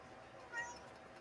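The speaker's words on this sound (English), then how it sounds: "none of the dogs are alerting on the cat sound" A cat's meow played back for a group of dogs, one faint, brief mew rising out of quiet room noise, with a small click right at the end.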